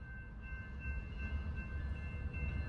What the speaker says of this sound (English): That train has to stop.